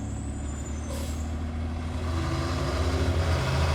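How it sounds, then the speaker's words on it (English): A big truck rumbles steadily at an intersection, its low engine drone swelling slightly louder toward the end, with a brief hiss of air brakes near the start and no talking. "You're driving a big old truck."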